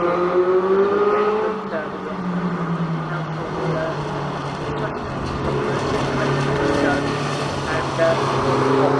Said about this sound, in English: 950 Anthony Amos racing his retro here tonight.